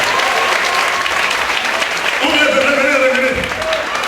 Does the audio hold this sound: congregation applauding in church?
yes